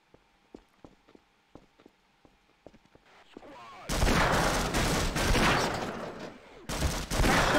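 Gunfire in the video game Half-Life: sparse sharp single shots and footstep-like ticks give way to dense, loud sustained bursts of automatic fire.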